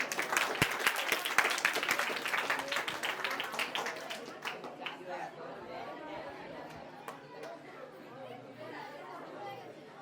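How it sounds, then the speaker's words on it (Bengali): Audience applause at a Teachers' Day celebration honouring a guest, loud dense clapping for the first few seconds, then fading into crowd chatter and scattered claps. "একবার জোরে হাততালি।"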